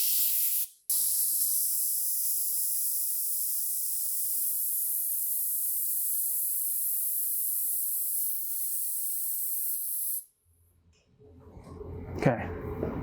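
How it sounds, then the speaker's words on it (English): Pressure bleeds from a hydraulic accumulator on a Bettis electro-hydraulic operator through an opened bleed valve, giving a loud, steady high hiss lasting about ten seconds and then cutting off abruptly, followed by clattering and handling noise. "you'll open the bleed valve and bleed it down to the set pressure, which in this instance is 700 psi"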